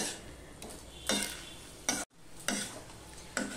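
Flat beans sautéing in a pan are stirred with a spatula, giving about five soft, evenly spaced scraping strokes over a faint sizzle, quiet and close, with one brief gap of silence.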